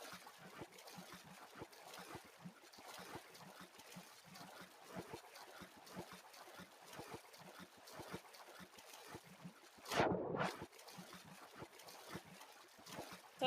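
In a video game, a character swims through water with soft, steady sloshing and trickling at low volume, broken by one brief splash partway through.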